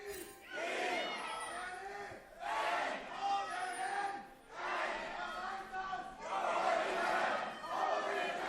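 An esports arena crowd at a League of Legends EU LCS Spring 2016 playoff quarter-final roars and cheers in four loud surging waves, each swelling for about a second and a half with short dips between.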